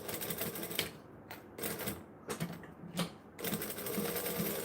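A home sewing machine runs in short stitching bursts, with quick back stitches and pauses between passes, while small heart-shaped craft pieces are sewn; close and fairly loud, with no talk.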